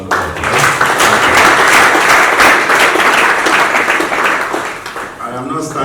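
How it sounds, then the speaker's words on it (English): An audience at a clean energy finance and investment training in Anambra breaks into a warm round of clapping, loud and continuous, fading near the end as a voice begins talking. "I would like us to give him another round of applause."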